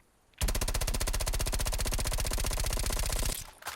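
Assault rifle (FFAR) fires in Black Ops Cold War, a loud, rapid, even burst of full-auto gunfire lasting about three seconds before stopping abruptly.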